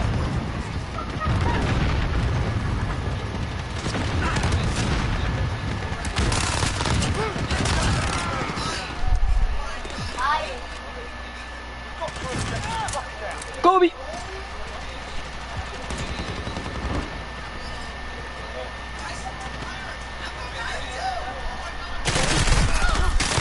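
Rapid automatic fire from a Fennec submachine gun in a video game, heard as fast bursts mixed with other game sounds while a person talks over it.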